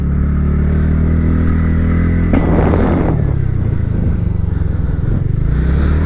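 A TVS Ntorq Race XP scooter ridden in race mode gives a close, steady engine drone with a brief rise in throttle noise partway through, sustained without talk.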